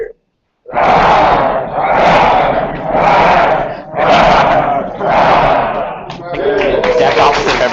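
A group of cub scouts growls like a bear in unison, voices imitating the animal in about six loud, rough bursts with brief dips between them, close and crowd-like in an indoor meeting.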